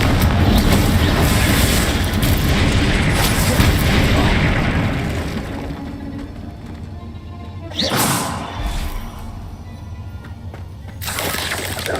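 Confringo explosive spell blasts in the Hogwarts Legacy video game, a loud booming rumble at the start fading away, followed by a couple of shorter sharp impacts later on.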